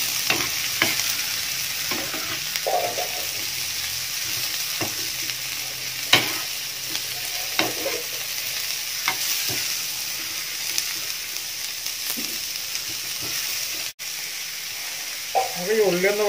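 Chopped shallots and large onions fry in a pan for a fish molee curry, a steady sizzle punctuated by repeated scraping stirs and occasional utensil knocks.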